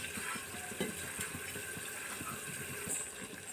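Water runs into a hot pan of cooking capsicum with a soft gushing hiss over faint sizzling and light clinks, steady throughout, no voices.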